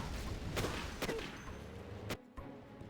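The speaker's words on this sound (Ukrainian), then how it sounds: "Є там постріли від снайпера." Sniper gunshots in the real-time strategy game C&C Generals sound as a few sharp, distant cracks over a dense, noisy battlefield background, ending in a brief silence.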